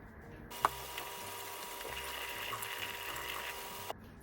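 Tap water runs steadily into a kitchen sink while hands are washed under it. A sharp clunk marks the start and the flow stops abruptly with another click about three seconds later, close and fairly quiet.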